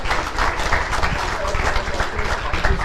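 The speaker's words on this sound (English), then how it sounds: "We can clap for him again." An audience claps for a guest speaker at a memorial lecture, dense and fairly loud applause filling the room continuously from start to finish, with a hint of crowd murmur underneath.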